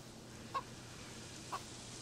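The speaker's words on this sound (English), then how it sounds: "Shut up, chicken." Two short, faint clucks from a chicken in the survival video game DayZ, about a second apart, over a quiet, steady background.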